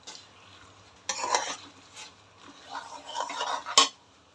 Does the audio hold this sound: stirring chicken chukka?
yes